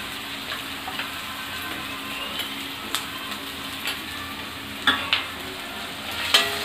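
Onions with ginger garlic paste are stirred in a frying pan, a soft continuous sizzle under scattered scraping and clinking strokes from the spoon, a few sharper knocks near the end, no talk.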